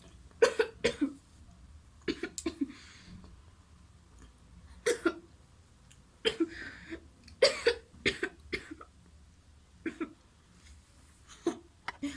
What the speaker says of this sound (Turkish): beni acayip şekilde öksürük tuttu